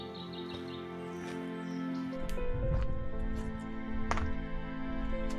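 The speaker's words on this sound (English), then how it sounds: "Hear the beautiful bird song just echoing through the forest." Birdsong rings through Maungatautari forest, scattered chirps and calls at a moderate distance over a soft ambient background, with a faint voice present.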